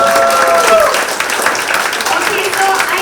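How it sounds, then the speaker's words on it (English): Loud, dense applause from a summit audience fills the room, a continuous wash of clapping from many people with light crowd noise and voices underneath. "can we just give a big round of applause to not just the champion and the runner-up"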